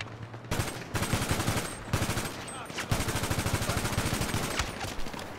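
Dense automatic gunfire from a GTA V Online mission, with rapid bursts of shots crackling almost continuously at close range and only brief gaps between volleys.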